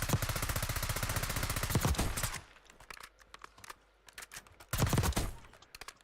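Rapid automatic bursts from a Val SMG in Call of Duty Warzone: a long sustained volley for about two seconds, scattered quieter shots, then another short loud burst, close and without talk.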